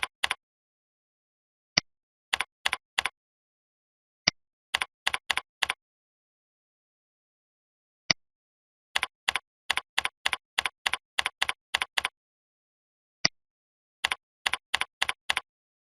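Clicky typing on a computer keyboard while entering details in a Medicaid provider enrollment form, close and crisp in short bursts of rapid keystrokes separated by pauses and single taps, in an otherwise silent room.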